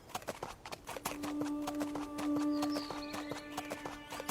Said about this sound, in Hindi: सस्ते रेट पे मिल गया ये घोड़ा